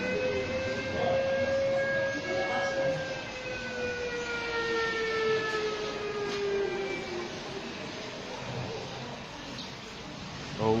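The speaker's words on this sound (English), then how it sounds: "Old siren." An old siren wails with long, slowly falling tones, sounding steadily over a dense rumbling background for about ten seconds.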